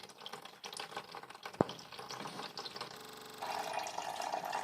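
Petrol-diluted engine oil pours in a steady trickling stream from a Suzuki GSX-F600 motorcycle, a continuous liquid splash that turns brighter and more hollow toward the end, with one sharp click partway through.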